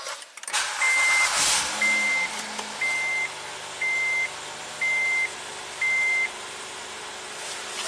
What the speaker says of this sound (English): let's briefly start the car